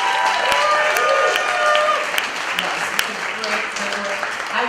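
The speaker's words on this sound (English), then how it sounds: "so please give her a round of applause" An audience at a live cabaret show in an intimate club applauds a midwife in the crowd, steady mid-level clapping and crowd murmur under a faint tonal hum that fades slightly toward the end.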